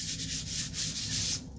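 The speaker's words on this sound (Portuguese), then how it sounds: "Vai lixando devagarzinho." Worn sandpaper rubs steadily against a handmade vase, a continuous rasping scrape in slow, even back-and-forth strokes, close and alone with no talking.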